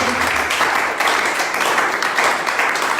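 A church congregation applauding in praise during a worship service, steady loud clapping from many hands filling the room throughout, with a few voices mixed in.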